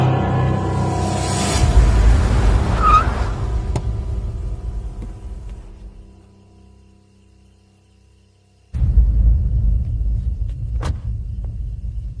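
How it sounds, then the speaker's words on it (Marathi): A car engine rumbles loudly and close, fades away to near silence, then another loud engine burst starts abruptly and keeps running. "अण्णा, गाडी काढायला सांगा."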